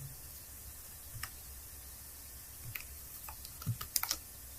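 Scattered keystrokes on a computer keyboard click faintly in short bursts, growing into a quicker cluster near the end against a quiet hiss.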